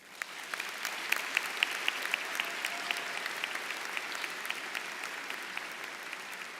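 Audience at an education awards night clapping for award recipients, a sustained even round of applause from a large room, steady and moderately loud throughout with a few sharper individual claps.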